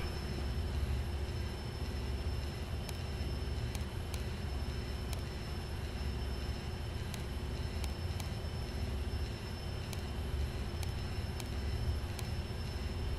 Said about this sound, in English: It's kind of an irritating, high-pitched whining noise in the background